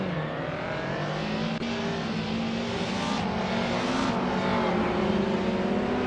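Race cars in a video game race with a 2001 Mercedes-Benz CLK in the lead: a steady, droning engine roar holds throughout, with rising whine as the car accelerates and brief whooshes of cars passing.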